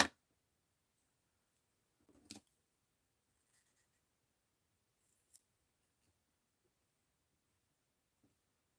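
Scissors snip a paper wing shape for an art journal page, a couple of brief crisp cuts separated by long quiet pauses, close and fairly faint.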